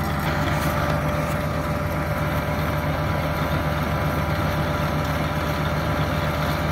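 A combine harvester's engine runs with its flywheel spinning, making a loud, constant low rumble and mechanical whir that holds steady throughout, close up and free of talk.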